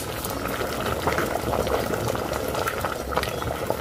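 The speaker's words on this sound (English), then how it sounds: "In the pan I have my water boiling" Salted water boiling in a pan for pasta, a continuous bubbling and popping close by, steady and moderately quiet.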